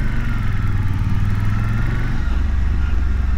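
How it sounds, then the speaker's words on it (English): Suzuki V-Strom DL1050 motorcycle (2021) engine braking on the road, a steady low engine drone that drops in pitch as the bike slows, heard close up with wind noise. "Let's try the engine braking actually."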